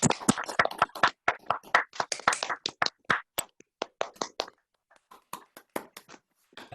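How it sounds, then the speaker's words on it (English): Online audience members clap for a keynote speaker over a video call, a patchy run of separate sharp claps arriving unevenly at first, then thinning to sparse scattered claps after a short lull, with no talking. "actually just give Alice a clap"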